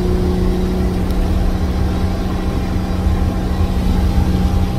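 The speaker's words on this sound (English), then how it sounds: "I'm not used to the high RPMs of this Detroit" A Detroit 92 series two-stroke diesel, supercharged and turbocharged, in a Pierce fire truck runs at high RPM, giving a loud, steady, low droning roar with a constant hum and no speech.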